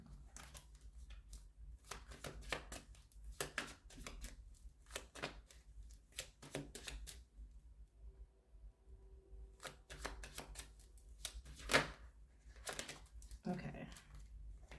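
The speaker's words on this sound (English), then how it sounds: "I'm just shuffling these and I'm gonna pull one out." Tarot cards riffle and slap in quick bursts of shuffling, close and soft, with a pause midway before more shuffling resumes.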